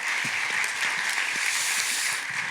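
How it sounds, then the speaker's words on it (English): A conference audience at a fan engagement event applauds speaker Jose, a chief content officer from the British Basketball League, with a loud, sustained round of clapping from many hands, unbroken and without talk. "Give Jose a round of applause, if you wouldn't mind, please."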